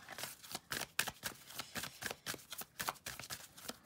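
Tarot cards riffled and shuffled by hand, then laid out on a table, giving a run of crisp, rapid papery flutters and slaps in uneven bursts, close and fairly quiet, with no voices.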